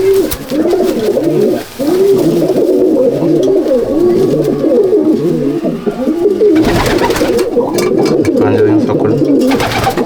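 Phulsira male racing pigeons coo in a loft, a dense, overlapping chorus of rolling, throaty coos repeating close by throughout.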